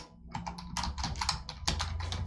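Close-up computer keyboard typing a short SQL command, a quick burst of clicky keystrokes in an uneven rhythm lasting a couple of seconds, with no speech.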